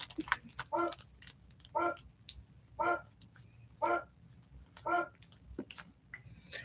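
A dog barks from another room during a casual indoor session looking at rings, five evenly spaced barks about a second apart, moderately loud with a slightly distant, roomy quality.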